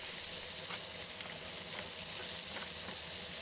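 Jalapeño peppers pan frying as Chinese tigerskin peppers, giving a steady, close, even sizzle and crackle of hot oil that runs without a break and with no talk.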